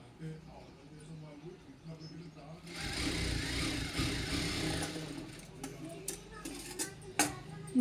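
An electric sewing machine stitches the lining onto a blouse in one sustained, close whirring run of a couple of seconds, framed by quieter handling clicks and fabric rustles, with someone talking before and after.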